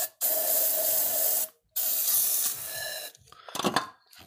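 PB Blaster penetrating lubricant hisses from a spray can into a head bolt hole on a Toyota Camry engine in two close bursts, the first shorter and the second longer, followed by faint rustling and handling noises.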